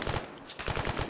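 Arma 3 automatic gunfire from a compound, a rapid burst of close, loud shots in two quick strings, with no talk over it.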